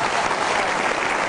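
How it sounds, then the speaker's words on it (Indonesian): Studio audience at the Kick Andy Heroes Award TV show claps for the judges, a brief burst of dense, steady applause close and loud. "Boleh kita berikan tepuk tangan sekali lagi buat para juri Kick Andy Heroes Award"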